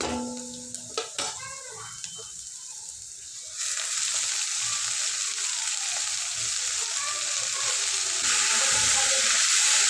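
Fenugreek leaves fry in a pan with green chili and dal, giving a close, crackling sizzle that jumps louder after a few clanks as the leaves go in, then keeps on as a steady hiss with stirring.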